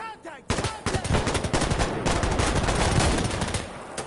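Rapid gunfire in the military shooter Insurgency: Sandstorm, a dense, loud burst of repeated shots starting abruptly and continuing steadily to the end.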